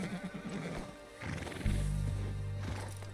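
A horse in Red Dead Redemption 2 gives a loud, close whinny, followed by a low snort and hoof clip-clops, with no talking.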